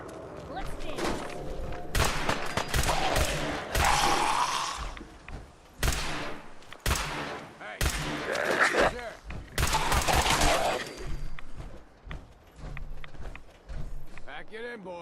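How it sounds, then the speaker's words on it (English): Gunfire in Fallout 4, several sharp shots scattered through the stretch amid game effects and music, with people talking over much of it. "Didn't you hear the gunshots?"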